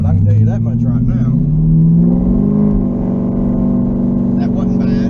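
A Chinavette car with a new RPM transmission and TCI torque converter accelerates, its engine note rising in a loud, steady drone that swells and settles, with someone speaking briefly over it.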